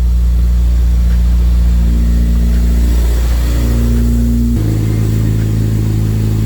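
A K-swapped Honda Civic EG with a Skunk2 exhaust idles high while still cold, a loud close steady drone that shifts pitch partway through, with no talk.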